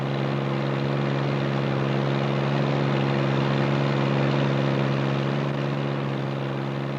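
Small propeller aircraft approaching a gravel mountain airstrip in the highlands, a steady droning engine with strong harmonic tones heard from inside the cabin, loud and unbroken throughout.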